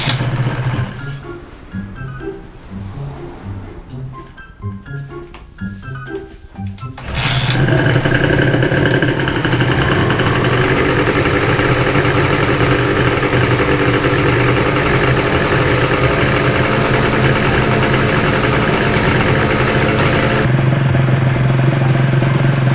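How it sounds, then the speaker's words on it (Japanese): A restored Honda NSR250R MC21 two-stroke motorcycle is kicked over a few times, then its engine catches at about seven seconds and runs on steadily and loudly. The idle stays continuous and close to the end, with no talk. "でとりあえず完成したのでキックしてエンジンがかかるか確かめます。"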